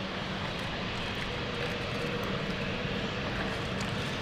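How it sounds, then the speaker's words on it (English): An airliner departing London City Airport, its broadband engine roar steady and loud throughout with no break or clear rise, heard alone without talk. "next flight going out is the Thessaloniki flight"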